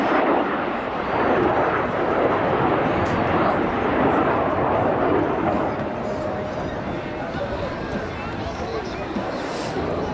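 Red Arrows jets performing at an air show, a loud continuous roar of engine noise filling the scene, with a commentator talking over it throughout.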